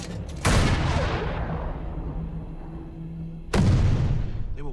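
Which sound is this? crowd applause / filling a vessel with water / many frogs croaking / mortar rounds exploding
mortar rounds exploding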